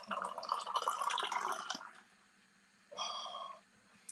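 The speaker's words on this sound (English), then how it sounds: "we will go and get the water, and we will pour the water quite nicely here" Water poured into a pot while making porridge and coffee, a close splashing, trickling stream for about two seconds, then a shorter second pour after a pause.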